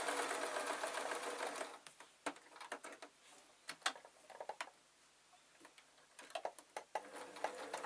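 A sewing machine stitching a tweedle muffler, whirring in a steady continuous run for nearly two seconds, then breaking into short bursts and clicking, ticking stops and starts as the fabric is turned and repositioned.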